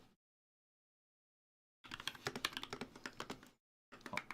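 Bad Seed Tactile switches with cherry profile keycaps on an NK65 keyboard are typed on in a fast, close run of crisp clacks, stopping briefly after a pause and then starting again.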